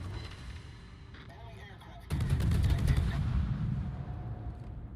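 Naval gunfire in World of Warships from a San Diego tier 8 American light cruiser: a heavy rumbling salvo of booms hits midway, rolling on after quieter battle noise and engine hum, with a voice briefly heard.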